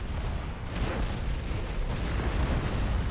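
Heavy, rumbling explosions from a torpedo run in Battlefleet Gothic: Armada 2 roll together into a sustained, booming barrage that stays loud and low from start to finish.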